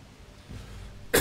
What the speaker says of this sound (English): Just coughed right into it.